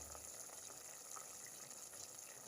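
Water poured into a pot of beef stew with peanut sauce while cooking, a steady faint gushing trickle that runs throughout.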